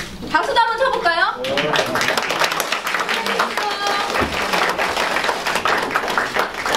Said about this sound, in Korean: 박수도 한번 쳐볼까요?